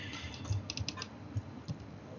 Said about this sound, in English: Let me type in